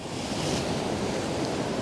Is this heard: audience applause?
no